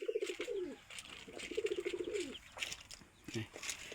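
Pigeons on a farm give two clear bursts of throaty, rolling coos close by, followed by softer coos and clattering farm noise, with a person speaking in the background.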